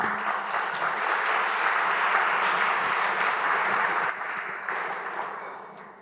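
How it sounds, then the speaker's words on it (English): Warm applause from guests at a formal political dinner, a steady, dense wash of clapping throughout that thins slightly toward the end. "Warm applause to you."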